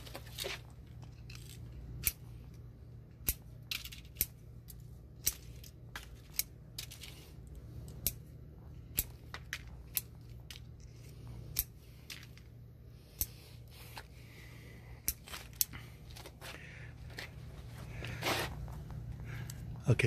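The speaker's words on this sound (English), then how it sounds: "you see where I've cut off all the branches" Sharp snips of pruning shears cutting sunburnt branches off an avocado tree, a quick irregular series of close, crisp clicks over a faint low hum.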